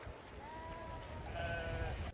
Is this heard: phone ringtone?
no